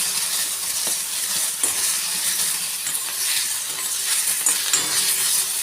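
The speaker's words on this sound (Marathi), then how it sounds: "फक्त आपल्याला कच्चा न ठेवता थोडासा फ्राय करून घ्यायचा आहे कांदा, ह्याच्यामध्ये भाजून घेऊयात" Chopped onion frying in the leftover oil of a kadhai, a steady close crackling sizzle with faint stirring clinks, no talk.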